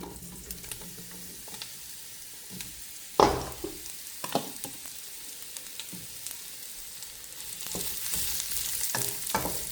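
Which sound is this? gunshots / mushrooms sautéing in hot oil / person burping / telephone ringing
mushrooms sautéing in hot oil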